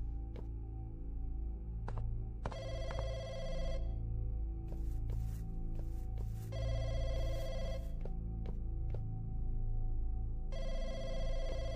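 Telephone ringing in the Chinese horror video game Ghost Debt at a public phone spot: repeated bursts of an electronic trilling ring, separated by short gaps and sharp clicks, clear and close with no talk.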